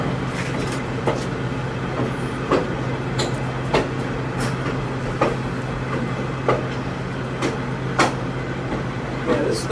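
Western Maryland Scenic Railroad's newest passenger car rolls along the rails with a steady low rumble and periodic clickety-clack joint clicks, loud and continuous from inside the car.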